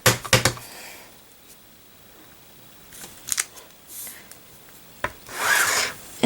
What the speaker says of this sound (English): stamp the corner flowers